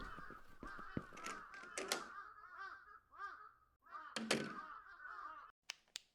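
Several crows caw repeatedly in the horror game Akai Onna, harsh arched calls overlapping in bursts, mixed with a few sharp knocks and thuds, fairly close and loud.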